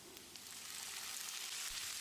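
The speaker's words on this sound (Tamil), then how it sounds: "1 டீஸ்பூன் உப்பையும் சேர்த்து தக்காளியை வதக்கிடலாம்." Chopped tomato sizzles in hot oil in a pan while cooking a side dish, a soft, steady hiss of frying that holds throughout at low volume.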